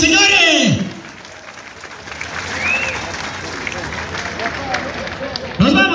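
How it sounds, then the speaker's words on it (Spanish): Crowd applause at a rural jaripeo rodeo in a village, a broad, continuous roar of clapping and cheering heard at a distance, with a loud amplified announcer's voice breaking in at the start and end. "El aplauso que se escucha fuertísimo"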